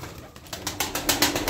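Pigeons at a loft flap their wings in a series of rhythmic bursts that grow louder and closer, with faint cooing underneath.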